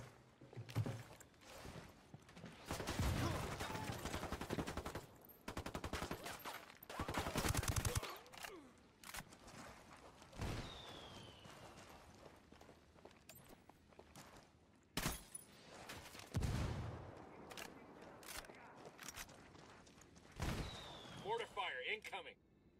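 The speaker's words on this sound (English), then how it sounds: "we got mortars incoming" Incoming mortar fire and gunfire in Ghost Recon Wildlands: loud, sharp blasts and dense bursts break out repeatedly between quieter stretches, with voices talking over the combat.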